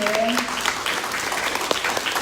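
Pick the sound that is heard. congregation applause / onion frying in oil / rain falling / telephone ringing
congregation applause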